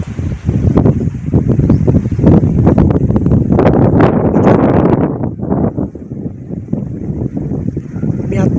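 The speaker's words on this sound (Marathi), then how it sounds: "बघितलं किती वारा आहे." Strong wind gusts sweep a rain-hit wheat field and its trees, roaring loudly against the microphone with rustling, easing slightly toward the end.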